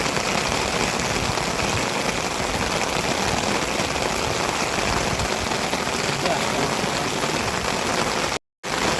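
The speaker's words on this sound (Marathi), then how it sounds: "काही पाऊस तिकडे जातो" Steady rain hisses on a surface, loud and continuous, cutting out for a brief moment near the end.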